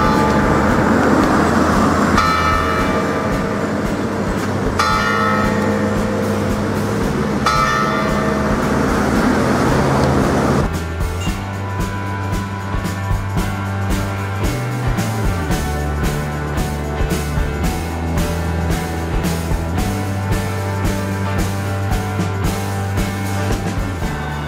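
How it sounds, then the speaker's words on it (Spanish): A Chinese clock chimes the hour with ringing bell strikes, a few slow opening tolls followed by a sustained, layered melodic chime, loud and close with no talking. "Suenan campanas para marcar cada hora que transcurre en el día."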